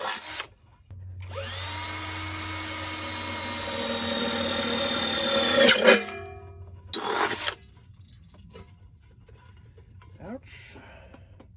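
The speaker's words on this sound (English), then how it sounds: "3/8, I think, drill bit, and I'm gonna put a bunch of holes around the bottom" A power drill with a 3/8 bit bores holes in a metal coffee can, a loud sustained whine rising in pitch over the first few seconds, then a screech as it breaks through, followed by a short second burst and quieter handling noises.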